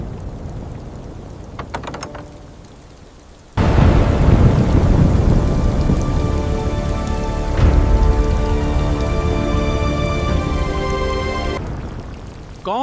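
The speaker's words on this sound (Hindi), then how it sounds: "तूफान आने वाला है।" Heavy rain pours down in a storm, a steady loud hiss with a deep thunder rumble swelling midway, following a quieter stretch of lighter rain and a faint knock.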